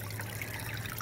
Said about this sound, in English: do like the mushroom fountain for a while this year because it just kind of, I like the sound of it